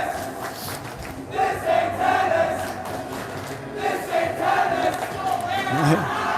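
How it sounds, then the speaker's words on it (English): Boys on a high school hockey team at a Woodstock versus Trumbull game let out a loud cheer in two swelling waves over arena crowd noise. "you hear the cheer go up from the boys"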